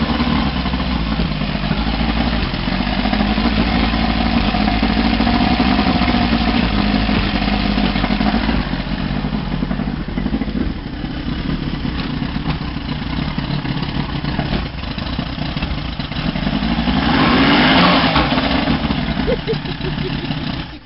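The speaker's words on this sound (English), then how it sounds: "the propeller is turning, the smoke is coming out of the exhaust of the vortex" Small boat motor with a turning propeller runs steadily and loudly near at hand throughout, a continuous low droning hum that swells slightly toward the end.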